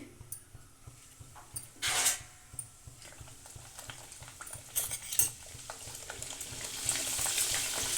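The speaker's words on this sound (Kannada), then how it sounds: "ಇವಾಗ ಒಂದೆರಡು ಕರಿಗೋಣ ಎಣ್ಣೆ ಕಾದಿದೆ" Mudde happala papad frying in hot oil, a bubbling sizzle that swells in bursts as pieces go in, with scattered utensil taps and scrapes against the pan, close and fairly loud.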